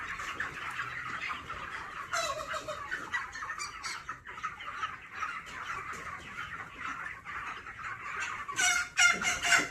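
A rooster being caught clucks and squawks repeatedly nearby, a busy run of fowl calls growing louder toward the end.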